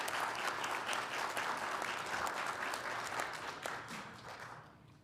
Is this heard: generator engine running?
no